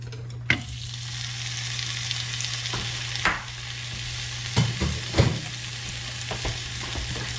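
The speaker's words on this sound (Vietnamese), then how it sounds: "Bạn để kim chi mình đã sắc sợi rồi đó, mình vào mình xào ha." Shredded kimchi stir-fried in a little olive oil, a steady close sizzle broken by several sharp spatula scrapes and taps against the pan.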